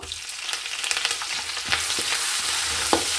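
Curry leaves and dried red chillies frying in hot oil for a spicy karapuri snack, a dense close sizzle with crackling pops and stirring scrapes that grows louder toward the end.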